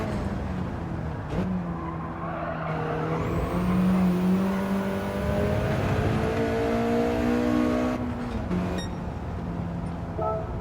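Race car in Gran Turismo 7 during a cornering licence test, engine droning and revving with rising and falling pitch while tires squeal and skid through the turn, loud and continuous, with no talk.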